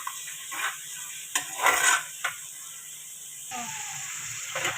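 Soft sizzling of spice paste and onion frying in a pot for goat trotters, with a few scraping stirs and clinks of a utensil against metal, over a steady high hum.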